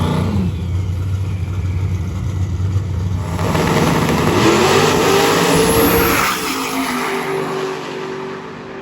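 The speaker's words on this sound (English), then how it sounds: "Mopar block with twin turbos on it. This thing is really rowdy" A twin-turbo, Mopar-block drag car accelerates hard at a drag racing event, its loud, rowdy engine roar building and sweeping upward mid-pass before easing off, with no talk over it.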